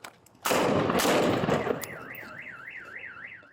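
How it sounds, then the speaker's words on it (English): A police officer's rifle fires in a loud, sharp burst of gunfire recorded on a body camera during an officer-involved shooting, followed by a wailing siren rising and falling under the fading noise. "One of the two officers fired 2 rounds from his rifle, striking the suspect."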